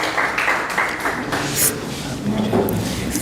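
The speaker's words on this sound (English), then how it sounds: "That deserves another round of applause," A round of applause from an audience at a Rotary membership event, dense clapping that swells and fades slightly over a few seconds with some voices mixed in.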